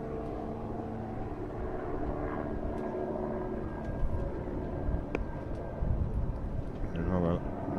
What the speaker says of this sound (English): Helicopter again coming our way.